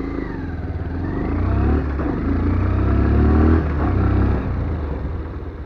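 Bajaj Pulsar 125 BS6 motorcycle with split seat riding along, its mid-pitched engine droning steadily and rising briefly as it runs, a close continuous hum without talk.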